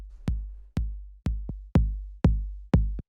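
Deep minimal house kick drum played dry with no drum bus processing, six evenly spaced booming thumps with long low tails and a quieter short hit in between, loud and alone.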